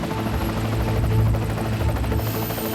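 A Sea Sprite navy helicopter, operating from the frigate Te Kaha over a dhow during a boarding, throbs with a loud, steady rotor and engine drone that holds throughout.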